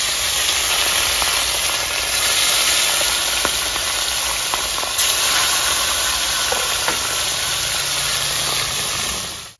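Rohu fish frying in mustard oil in a wok, a steady broadband sizzle that holds loud and even throughout, with a few faint clicks and pops over the hiss.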